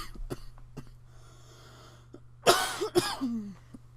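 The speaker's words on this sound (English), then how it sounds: "I keep coughing every time" A person coughs twice in close succession, loud and harsh against a quiet room with a low steady hum. Softer clicks and small noises come before the coughs.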